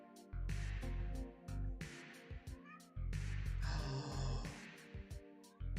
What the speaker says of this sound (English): I hear a meowing kitty.